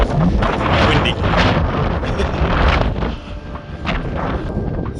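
Strong wind buffets the microphone at the Garn Turne megalith site in Pembrokeshire, Wales, a loud continuous roar that eases slightly toward the end.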